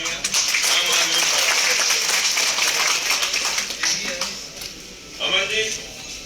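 Loud applause from an audience at a live program, a dense wash of clapping that holds for several seconds, then tapers into scattered claps.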